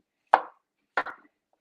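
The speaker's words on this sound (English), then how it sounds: "I'm just going to cut it in a couple of pieces and throw it into my blender" A knife chops a seedless cucumber into pieces, two crisp, close cuts spaced about half a second apart against a quiet kitchen background.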